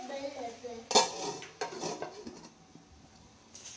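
Metal spoon scraping and clinking against a pan while stirring brinjal fry over a medium flame, a few sharp knocks followed by softer scrapes, close and moderately loud with no talking.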